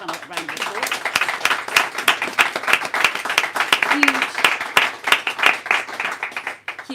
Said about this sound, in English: give our amazing panel a round of applause